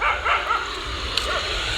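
Dogs yip and bark a few times at middle distance along a street in Ja-Ela, Sri Lanka, over steady outdoor background noise.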